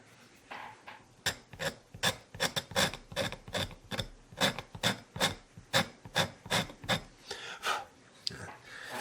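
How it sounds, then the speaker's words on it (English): Repeated rasping scrape strokes as old glue is cleaned off the edges of an old German fiddle, steady rhythmic passes close up, about two per second, with no talk. "maybe I'll scrape these edges here first to get them clean and get the old glue off of them"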